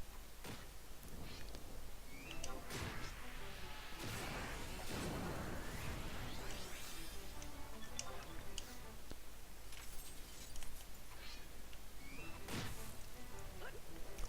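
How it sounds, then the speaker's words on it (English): Final Fantasy XI online game combat plays out in busy layered effects: repeated whooshes, sharp hits and metallic clinks scattered over a steady buzzing backdrop, fairly faint, with occasional talk mixed in. "I hear the noises of combat somewhere nearby."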